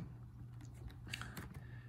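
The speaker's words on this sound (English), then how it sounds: "I'm typing using the, the keyboard on the system" Soft, sparse key clicks from typing on the keyboard of a MiniSono ultrasound system, a few scattered taps over a steady low electrical hum, quiet and close.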